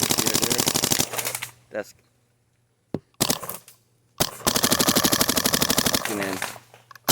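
Rapid automatic bursts of gunfire from a gun with an electronic trigger set to ramping, fired in long dense strings separated by pauses, loud and close, with a brief spoken word between bursts.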